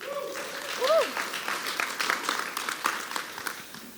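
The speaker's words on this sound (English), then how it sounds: "so let's just give them a round of applause." A church congregation applauds the leaders of a first youth camp with steady, moderately loud clapping that lasts throughout, while a voice calls out briefly at the start.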